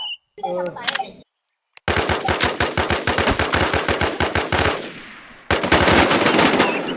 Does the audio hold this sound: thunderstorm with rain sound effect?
no